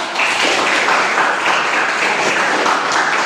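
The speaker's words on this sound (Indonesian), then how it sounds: "Tepuk tangan dulu lah." Classroom of students applauding during a religious education lesson, a dense, steady burst of many hands clapping close by that holds evenly throughout with no talk.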